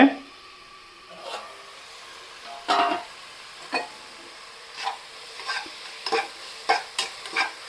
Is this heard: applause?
no